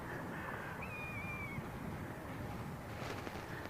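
Birds at Birmingham Airport caw and squeal as a departing plane scares them off, with a long rising call standing out over the steady rumble of the aircraft.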